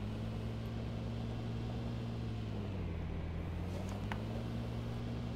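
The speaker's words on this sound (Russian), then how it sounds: "машина жужжит капец сильно" A steady, droning car engine buzz in the video game DayZ Epoch, with a low hum that dips briefly in pitch before rising again, continuous and fairly quiet, with no talking.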